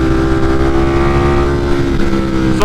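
Tuned motorcycle engine pulling hard in third gear, a loud, steady buzzing drone with a slowly shifting pitch, heard close up over wind noise through the whole stretch.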